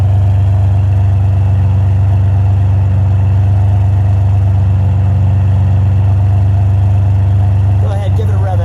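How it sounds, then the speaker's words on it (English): A red 1999 Ferrari 550 Maranello with a V12 engine and a gated shifter idles steadily nearby, giving a loud, smooth, constant rumble. A brief disturbance comes near the end. "Take your foot off the brakes. Just let it idle for a minute."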